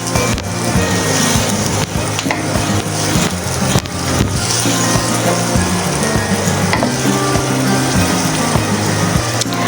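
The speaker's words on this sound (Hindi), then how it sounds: "प्याज को अब हम अच्छी तरह भूनेंगे, इसको थोड़ा नरम करेंगे, लाइट ब्राउन सा होगा।" Onions frying in a pan for lahori chanay, a loud steady sizzle with scraping stirs and occasional clatter of a utensil, close and continuous.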